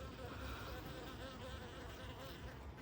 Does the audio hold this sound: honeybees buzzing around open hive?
yes